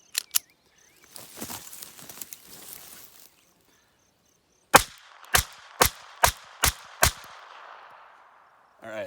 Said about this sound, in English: So we'll just run 3 quick mags